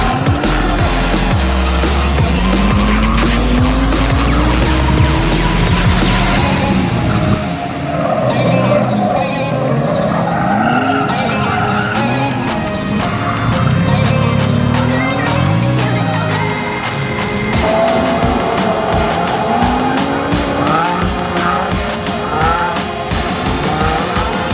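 Nissan 350Z drifting on a track, with loud revving engine sweeps rising and falling continuously, tyre squeal and a steady roar throughout, up close with no voices.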